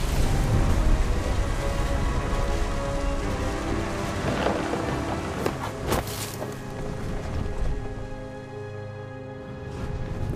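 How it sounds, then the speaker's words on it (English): A thunderstorm in the game What Remains of Edith Finch: steady heavy rain pours throughout while deep thunder rumbles and cracks roll in, loud and close, with no voices over it. "The thunder sounded much too close and full of angry power."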